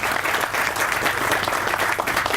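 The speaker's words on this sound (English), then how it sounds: "So please join me in welcoming Mayor of the City of Yonkers, Mayor Mike Spano." Steady, dense applause from a crowd at a building opening in Yonkers, continuous clapping throughout with no pauses.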